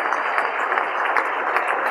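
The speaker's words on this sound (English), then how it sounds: "join me in a round of applause for this first class of Santa Barbara High School Dons Athletics Hall of Famers" Banquet audience applauding the first class of Santa Barbara High School Dons Athletics Hall of Fame inductees, a steady, dense wash of clapping that fills the room without a break.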